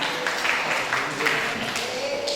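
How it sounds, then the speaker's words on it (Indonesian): Classroom applause for students named as top achievers in an Indonesian school lesson, a brief burst of clapping from a group of pupils, fairly close and steady throughout. "Jalil Aminuddin, kasih tepuk tangan"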